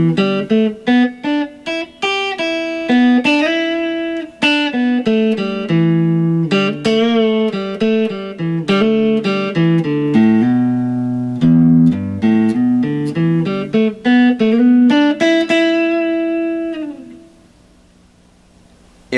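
A run of plucked guitar notes forming slow bluesy pentatonic riffs, picked quickly in bursts, ending on a sustained note that rings out and fades.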